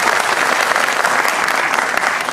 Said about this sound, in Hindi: अगर आप लोगों को भी आज का कार्यक्रम अच्छा लगा तो एक बार जोरदार तालियां दीजिए।